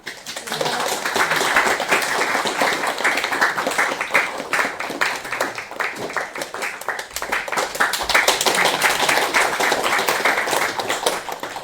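An audience at an SGDC meetup claps after a presentation, a close, lively round of many hands with a slightly uneven rhythm that swells and eases across several seconds, with no talking.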